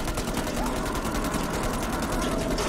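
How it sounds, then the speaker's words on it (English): Rapid steady gunfire in Man of Medan, a fast rattling stream of shots at even rhythm, held loud and dense throughout. "Why are we shooting the kid again?"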